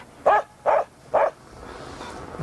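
A white farm dog barks three times in an even rhythm, loud and fairly close, with a quiet outdoor farmyard background afterward.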